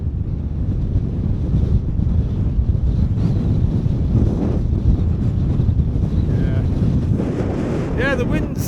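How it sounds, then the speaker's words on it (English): Strong wind buffets the microphone on a hilltop in the Lake District, a steady, loud roar of gusts that runs the whole length, with a faint chirp near the end. "the wind's picking up a little bit again"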